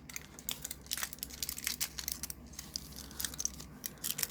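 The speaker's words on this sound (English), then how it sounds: "pop it on your nail, pop your tin foil on" Tin foil crinkles and crumples in short, close bursts as it is wrapped around a fingernail over an acetone-soaked cotton pad during gel polish removal.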